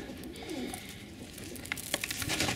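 Pigeons coo softly and intermittently, with low, rounded calls rising over faint background noise and some rustling near the end.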